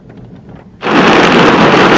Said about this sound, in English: that was thunderstorm again